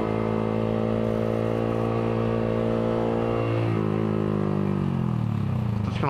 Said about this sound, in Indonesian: Knalpotnya itu menurut gue berisik banget, menyedihkan.